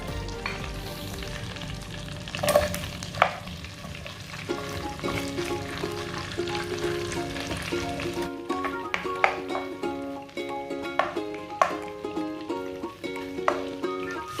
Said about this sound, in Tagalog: Kapag tunaw na ang butter, gisa ang luya.